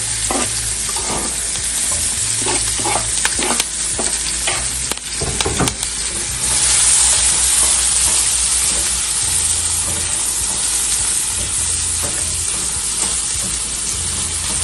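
Sweet pepper, thyme and onion sautéing in a pan for Jamaican brown stew fish, a constant close sizzle with repeated scraping stirs in the first half, then a louder, steadier hiss of frying.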